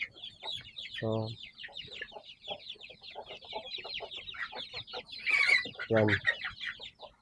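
Giant chickens in a yard cluck in short rhythmic bursts, with a couple of louder squawks standing out, close and fairly quiet, while a person speaks briefly.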